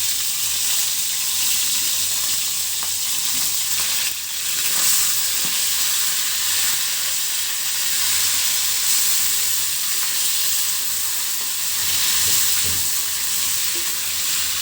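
Washed fish fries in a pan with chopped onions, giving off a loud, continuous hissing sizzle that stays steady throughout, with faint crackles and no voices.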